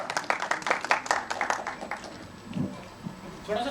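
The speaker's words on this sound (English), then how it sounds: "Can we have a huge round of applause?" A small audience claps in a quick patter of applause that fades out within a couple of seconds, after which voices talk.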